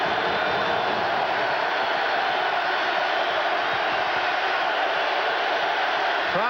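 A stadium crowd at a 1990 NFL Broncos vs Bills game, a dense, steady roar filling the space without letup.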